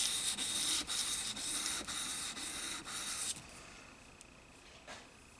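A knife blade is drawn back and forth over sandpaper in steady, evenly spaced rasping strokes for about three seconds. Then it stops, leaving only faint scrapes and a light tap.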